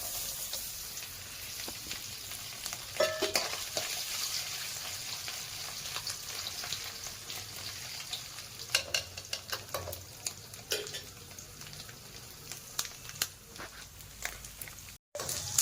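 Grated coconut frying in oil with mustard seeds, a quiet steady sizzle broken by scattered crackles, pops and stirring scrapes throughout, with no voices.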